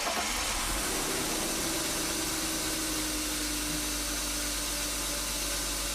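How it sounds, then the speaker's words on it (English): A BMW 5 Series E39 engine runs steadily close by in a continuous, even hum after starting, with the car's battery under test. "I start the engine"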